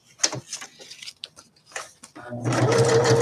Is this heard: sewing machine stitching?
yes